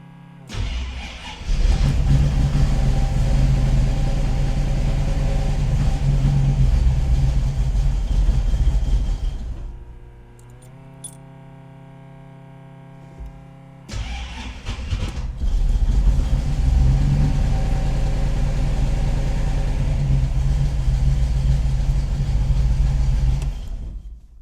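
A freshly restored engine cranks and fires for its first startup, running rough and misfiring with a loud, uneven rumble for about eight seconds. It cuts to a quiet pause, then catches again and runs on with the same lumpy roar.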